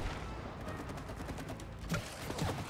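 Gunfire rattles steadily in a cooperative video game, It Takes Two, as a fast, continuous volley of shots layered over dense background game noise with a couple of sharper bursts near the end.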